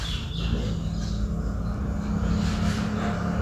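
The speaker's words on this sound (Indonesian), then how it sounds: "kita hidupin dulu untuk AC-nya" Air conditioning switched on in a 2002 Toyota Altis with a weak-cooling fault, giving a steady low blower whoosh and engine hum that stays even and close throughout, with no voices.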